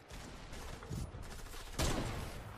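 Rapid bursts of gunfire ring out in an online shooter video game, fairly faint and distant, with no talking over them.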